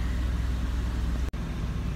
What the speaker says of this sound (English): she's been running for about 10-15 minutes now in gear with the wheels off the ground and the lift on the locks